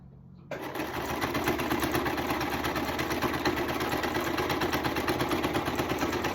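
A sewing machine stitches the curved edge of a sunglasses pouch, starting after a brief quiet moment and then running in a steady, fast, close mechanical whir.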